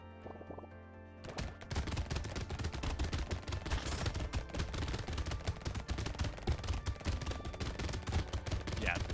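SMG fire in the video game Brotato, rapid dense bursts of small-arms shots that begin after a brief quiet lead-in and then rattle on continuously, loud and busy, overlapping one another.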